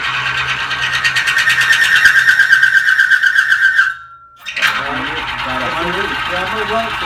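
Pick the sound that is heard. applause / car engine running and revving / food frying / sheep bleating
car engine running and revving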